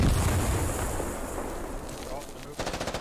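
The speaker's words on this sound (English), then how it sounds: "As US mortars now fall danger close." Mortar shells land in the military shooter Squad, a dense run of heavy, booming blasts and rumbling explosions that fills the moment, with a voice talking over the barrage.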